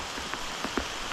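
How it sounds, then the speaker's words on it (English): Heavy rain pours steadily onto a tarp shelter in the backcountry during a downpour, a dense continuous patter with a few louder drops landing close by. "it is absolutely downpouring now."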